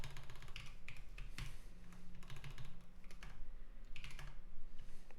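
Rapid typing on a computer keyboard, a steady patter of close key clicks in uneven bursts with a few sharper taps, no voices.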